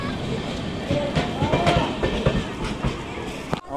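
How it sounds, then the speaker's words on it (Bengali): A train pulls out of Jhalda station amid a busy platform crowd, a steady rumble and clatter under the noise of people. Voices can be heard throughout. "Bye bye train."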